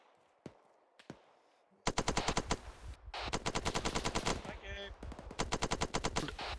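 A few isolated shots give way to sustained rapid automatic fire during a platoon combat training exercise, loud and close, in long rhythmic bursts, with brief shouted voices between them.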